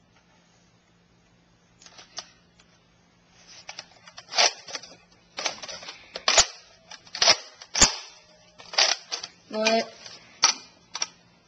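Modded, custom-painted Recon toy blaster with a black clip firing a series of sharp, snappy shots at irregular intervals, each a crisp click-pop close to the listener, with a brief spoken word near the start.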